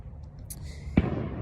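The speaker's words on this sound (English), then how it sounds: "There are fireworks happening. That's what those sounds are." Fireworks go off in the distance during a nighttime walk. One muffled boom stands out against quiet outdoor ambience, with a few faint pops before it.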